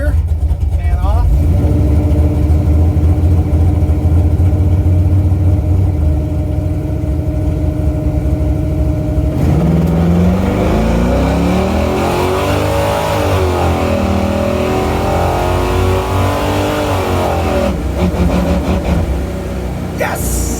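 A race car at a track pulls away hard in first gear, its engine revving loud and close with rising pitch sweeps after an idling start, while people talk over it.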